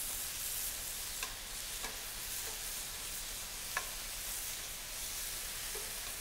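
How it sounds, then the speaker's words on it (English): Marinated beef satay sizzles steadily in a hot pan, a continuous hiss with a few soft scrapes and taps as the meat is flipped, close and fairly even throughout. "I'm going to flip this meat once."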